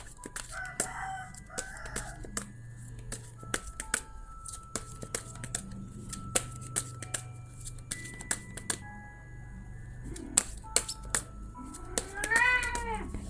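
A cat in heat yowls and meows repeatedly indoors, the calls loud and drawn out, recurring through the scene over a steady low background hum with scattered clicks.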